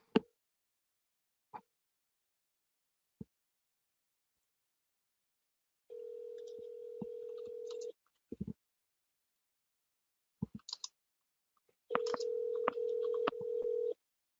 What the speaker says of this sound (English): I'm going to try to call his cell phone.